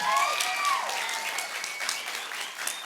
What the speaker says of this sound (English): you deserve all the applause in this room